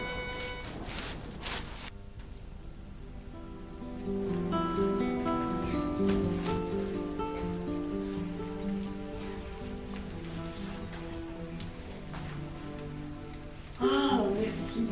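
Steady rain pours down through a misty, cold scene, a continuous even wash of drops throughout, with a brief louder rustle near the end and no one speaking.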